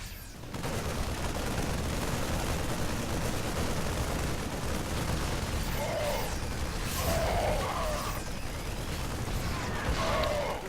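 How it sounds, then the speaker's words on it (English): A StarCraft II battle rumbles steadily as Terran widow mines fire on Zerg units: continuous dense combat noise with several sharp bursts standing out late on, moderately loud throughout. "trying to bait out those widowmine shots"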